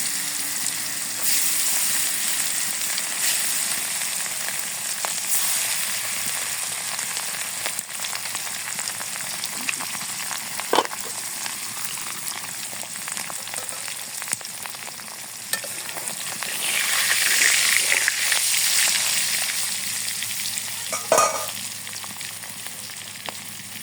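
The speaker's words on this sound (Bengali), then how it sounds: "কড়াই গরম হয়ে গেছে, এখন মাছ দিয়ে দিই।" Fish frying in oil in a hot wok in a village kitchen, a steady close sizzle with crackling bursts and stirring scrapes, swelling louder midway through, with no talking.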